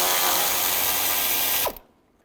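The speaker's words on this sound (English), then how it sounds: "We're going to remove this hold down bolt for the transmission cooler. Use a 10mm socket." Rapid ratcheting clicks from a ratchet fitted with a 10mm socket, loosening the hold-down bolt of the transmission cooler on a 2006–2011 Cadillac DTS, loud and close for nearly two seconds before stopping abruptly.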